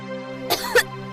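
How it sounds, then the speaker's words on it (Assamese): A single short cough, two quick harsh bursts close to the microphone, over a faint steady background hum. "তুমি দুদিনমানৰ পৰা বৰকৈ কাহি আছা"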